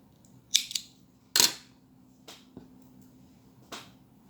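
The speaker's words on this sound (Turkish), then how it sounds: "Bakın yine bir ip kesiyorum." Scissors snip yarn while making a tassel, giving a few crisp, separate cuts spaced about a second apart, close and clear against a quiet room.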